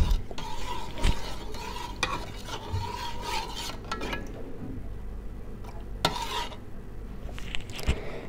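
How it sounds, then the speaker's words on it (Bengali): Milk with custard powder is stirred in a pot, a close, continuous rasping scrape of the spoon against the metal punctuated by a few sharp knocks. "কাস্টার্ড পাউডার দিয়েছি, এখন দুধটা ভালো করে গুলিয়ে নেব।"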